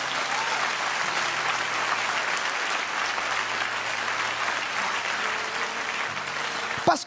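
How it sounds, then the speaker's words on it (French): A church congregation applauds and cheers for Jesus at a French-language service, sustained dense clapping from many hands at steady loudness, ending abruptly with a short thump. "Est-ce qu'on peut acclamer pour Jésus?"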